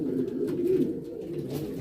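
A male racing pigeon coos steadily at a female during courtship, a low continuous burbling croon up close with a swelling pulse near the middle, heard alone without voices.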